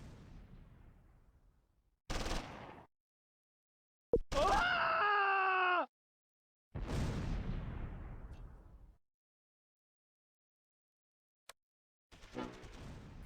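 German mortar rounds land in the Close Combat 3 war game as separate sharp blasts with booming decays, spaced by silences, and a strained tonal cry rings out between them.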